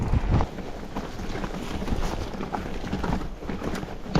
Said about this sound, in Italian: oh che vento!